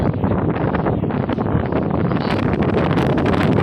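Strong, gusty wind buffets the microphone outdoors at a fishing pond, a loud continuous roar with rustling bursts throughout and no voices.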